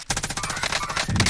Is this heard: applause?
no